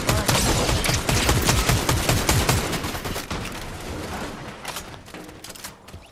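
Rapid bursts of Nemesis AR close-quarters tactical assault rifle fire in Fortnite, loud and dense at first, then thinning and easing off toward the end, with no talking over it.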